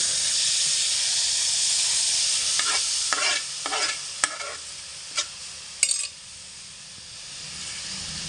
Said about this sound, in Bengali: এবার গরম কড়াইয়ের মধ্যে গ্রেট করে রাখা চিনি মাখানো আম দিয়ে দিচ্ছি